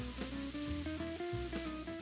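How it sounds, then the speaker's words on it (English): Couple of prosciutto slices crisping in a hot pan give off a soft, steady sizzle with light popping, faint and uninterrupted, with no voices. "I want to get a couple of pieces of prosciutto into the pan to crisp"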